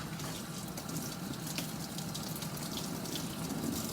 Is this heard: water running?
yes